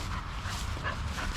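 Dogs outdoors bark and whimper continuously, a restless mix of yips and whines over steady background noise.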